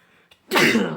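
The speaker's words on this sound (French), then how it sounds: "je vais éternuer" A single loud, sharp human sneeze bursts out after a brief quiet intake of breath, close to the microphone.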